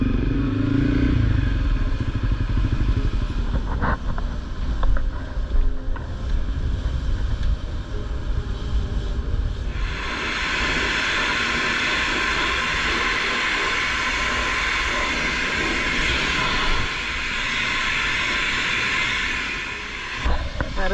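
A car wash sprays a motorcycle on an adventure ride: a low, steady rumble runs throughout, then a loud, continuous hiss of pressurized water starts about halfway and keeps going to the end.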